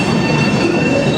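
A train pulls out of a station in loud rolling rumble, with a thin squeal of wheels on rail running throughout.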